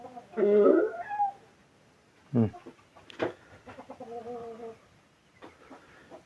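Chickens kept on a farm give scattered clucks and short squawks in bursts, fairly close and moderately loud, with quiet gaps between calls.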